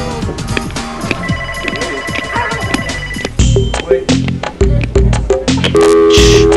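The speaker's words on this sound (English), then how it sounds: "The phone just had to ring." A telephone rings loudly indoors with a repeated electronic ringing pattern, heard over background music.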